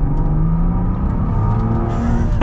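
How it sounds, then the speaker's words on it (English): A Mansory-modified, armored Rolls-Royce Cullinan revs up under acceleration as its exhaust opens, a deep, throaty note and continuous loud rumble heard from inside the vehicle. "So I guess the exhaust opens up a bit when you get on the throttle,"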